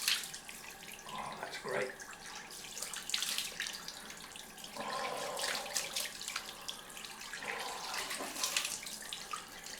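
A bathroom tap runs for a cold rinse after a wet shave with a Razorock Hawk V3 stainless razor, water splashing in bursts that rise and fall as hands cup it, with a brief spoken remark partway through.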